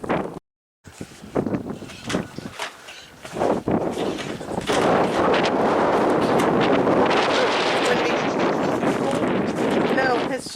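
Strong wind gusts outdoors at a goat barn in cold weather, buffeting the microphone in roaring bursts that build into a continuous loud rush, with a person talking early on.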